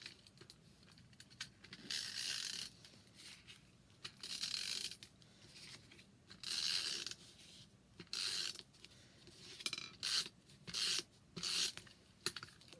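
A snail adhesive tape runner is rolled across a white folded card in repeated short strokes, each producing a faint clicking, ratcheting rasp separated by brief pauses, quiet and close with no talking.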